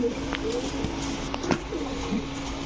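Golla pigeons coo softly in a few short, low murmuring calls over a steady background hum.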